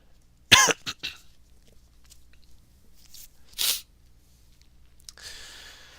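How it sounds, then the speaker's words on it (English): A sharp cough bursts out near the start, followed by a couple of smaller coughs, then a throat-clearing burst later, close and fairly loud. "Hold on, I feel a cough."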